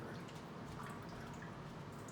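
Water trickles and drips faintly through a Zero Water pitcher filter, a soft steady patter with no one speaking.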